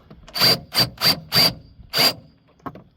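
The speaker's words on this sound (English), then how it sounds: "And now we can get this last bolt out." Five short scraping, squeaking bursts followed by a faint click come from loosening the final 10 mm bolt on a 2006–2010 VW Jetta transmission mount with a stripped head, close and fairly quiet.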